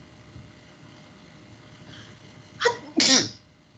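Two sneezes burst out in quick succession from one person, loud and close, over quiet room tone.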